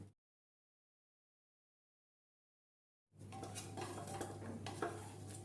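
Pressure cooker of five-lentil dal, cooled after two whistles, opened by its lid: about three seconds of silence, then a burst of metallic clatter and scraping from the pot and utensils.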